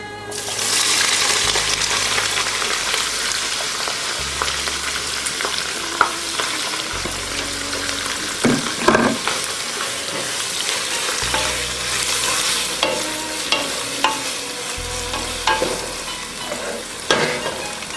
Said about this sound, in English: I'll just saute it for about 4 to 5 minutes till it's a bit tender.